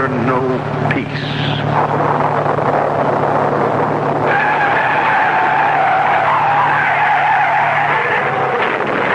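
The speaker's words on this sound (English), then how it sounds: "the skid that sent him hurtling through the guardrail" A car's tires squeal in a long, loud skid before it crashes through a guardrail, sustained for several seconds and shifting in pitch midway, in a vintage horror radio drama.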